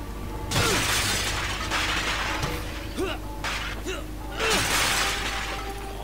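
Video-game shattering of a vase, a few loud crashes with clattering fragments, separated by pauses, set against steady background game hum.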